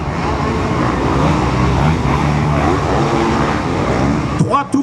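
Racing cars battle wheel to wheel mid-circuit near the end of a race, their engines droning loudly and continuously beneath a French commentator's voice, with a brief rise in engine noise at the very end.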